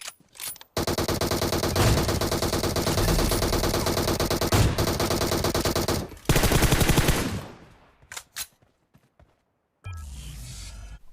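Sustained automatic gunfire from the PUBG Mobile shooter game rattles loudly in long, dense bursts, briefly cuts off, bursts again, then gives way to scattered quieter shots and softer action sounds. No one speaks.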